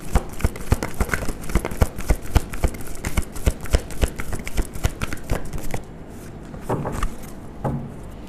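Tarot cards shuffled and drawn from a deck, a rapid string of crisp riffling slaps and flicks, close and fairly loud, easing into a few slower, softer card movements near the end.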